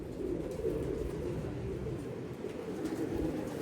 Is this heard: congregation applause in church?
no